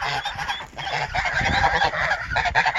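Geese honk continuously at close range, several birds calling over one another in a busy village flock kept together with ducks.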